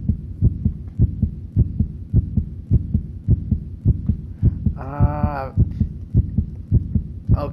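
A steady, deep heartbeat thumps in a continuous double-pulse rhythm in the video game Death Mark, loud and close, with a brief tonal bleating sound rising over it midway.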